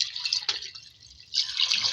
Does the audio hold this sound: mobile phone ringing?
no